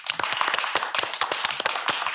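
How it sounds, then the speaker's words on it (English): An audience claps steadily for a newly signed music group at a live session, a dense crowd of hand claps with no talking. "so y'all clap it up for them"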